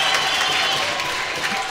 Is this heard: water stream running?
no